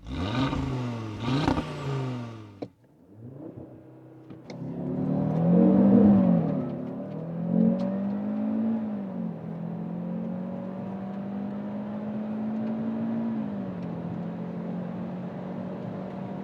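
A Cupra Formentor VZ5 facelift with its 2.5-litre five-cylinder engine gives two sharp rev blips, then climbs into a longer rev that settles into a steady, sustained drone, close and loud with no talking.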